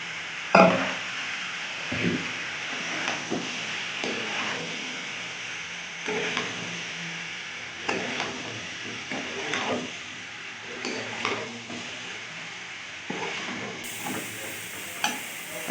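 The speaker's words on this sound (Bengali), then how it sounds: "চিংড়ি মাছটাও এর মধ্যে দিয়ে দেবো, একবারে দিয়ে কষাবো ভালো করে।" Prawns frying with spices in a pan, a low sizzle under repeated scraping and clattering strokes as they are stirred, close and moderately loud.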